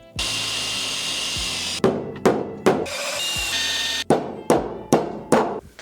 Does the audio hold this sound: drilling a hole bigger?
yes